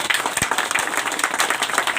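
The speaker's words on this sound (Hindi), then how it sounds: "और ये ताली बजती रहनी चाहिए" A crowd claps continuously at a Diwali gathering in Delhi, a dense, even patter of many hands at close range with no talk over it.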